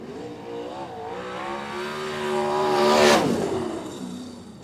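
A Mopar-powered winged sprint car screams through a time trial lap at Greenstone Park, engine pitch climbing and wavering before a loud peak as it passes close, then easing away.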